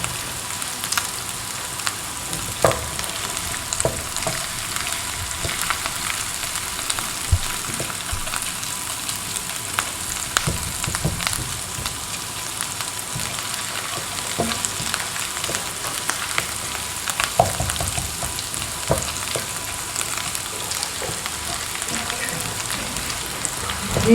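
Garlic and ginger fry in a pan with a steady, soft sizzle and crackle, with occasional faint scrapes of stirring and no voices.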